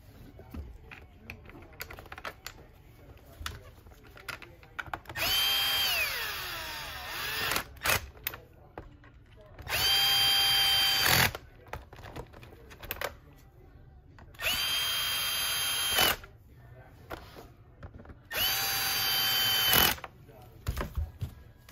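Power drill driving the bottom screws into a Miele vacuum power head, with four whining bursts of a few seconds each separated by pauses filled with handling clicks and a voice talking.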